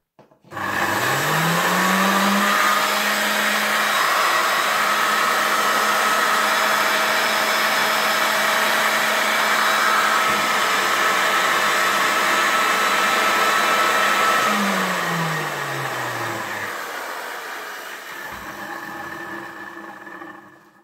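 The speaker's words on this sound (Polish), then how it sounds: "pokazany jest w wersji suszarki do włosów po zdemontowaniu ssawki i zamontowaniu specjalnej podstawy, która służyła właśnie do tego, żeby mógł być suszarką do włosów" A vintage vacuum cleaner fitted with a stand so it works as a hair dryer, its motor whining up to speed and droning steadily and loud close by, then winding down and fading as it switches off.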